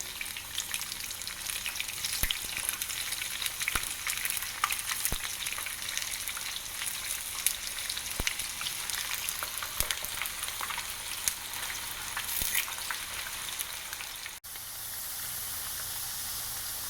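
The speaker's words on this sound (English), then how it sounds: "the first step is to fry the zucchini" Zucchini frying in hot oil for spaghetti alla Nerano, a steady dense sizzle that crackles throughout with scattered sharp pops, then drops to a softer, even hiss near the end.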